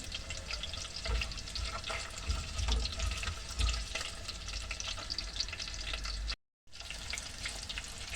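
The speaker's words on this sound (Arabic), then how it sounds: "نحط اللحمه دي كده ايه نديها كده تقلبتين الاول" Meat sizzling in a pan at the start of an okra stew, a steady crackling fry with stirring and scraping sounds, close and moderately loud, broken by a brief silent gap near the end.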